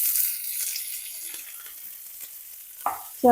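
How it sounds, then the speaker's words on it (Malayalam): Sliced shallots sizzle and crackle in hot oil after mustard seeds have popped, a steady fry hiss with a few louder stirring scrapes near the end, close and alone without talk. "നമുക്കിനി ഇതിലേക്ക് വട്ടത്തിൽ അരിഞ്ഞു വെച്ചിരിക്കുന്ന ചെറുള്ളി ഇട്ട് കൊടുക്കാം"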